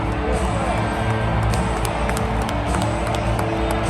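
Baseball stadium crowd of roughly 25,000 at T-Mobile Park in Seattle, a thick continuous roar of cheering with clapping and whoops mixed in, loud and steady with sharp claps popping through.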